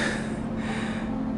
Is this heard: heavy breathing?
yes